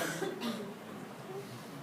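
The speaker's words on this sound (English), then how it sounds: "Everybody has cough and cold?" A person coughs and clears their throat a couple of times in a room during a management training talk, brief and moderately faint.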